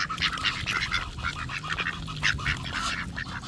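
Ducks quack busily while being fed by hand in Texas, a dense, overlapping chorus of nasal quacks close by, continuous and excited throughout.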